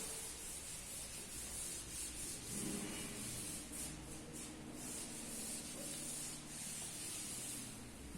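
A classroom board being rubbed clean with a duster, a steady scratchy rubbing that goes on throughout, close by with no talk.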